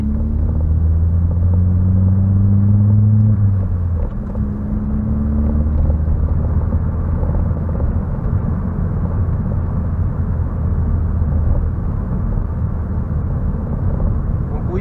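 Opel Astra K 1.4L 150 hp petrol engine pulling hard under acceleration, a loud steady droning rumble with rising harmonic tones in the first few seconds, then a sustained engine and road roar with no voices.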